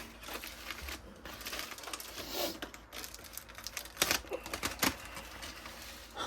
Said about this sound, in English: we're gonna do an unveiling of these foil dinners